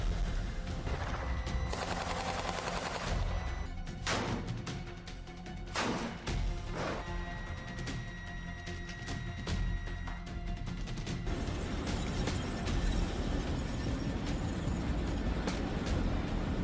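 Military strikes bring rapid bursts of gunfire and sharp blasts, irregular cracks and rattling volleys over a constant rumble, fairly faint and distant throughout.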